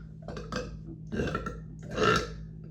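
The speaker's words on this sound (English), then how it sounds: "They keep burping." Three burps in a row, close and fairly quiet, each a short guttural croak, the last one longest and loudest.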